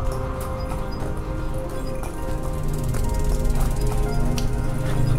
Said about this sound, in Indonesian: ada suara andong kuda?